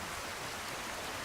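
Steady rain from a weather mod in Skyrim Special Edition, a soft, even wash of falling water with no breaks, faint and distant and without voices.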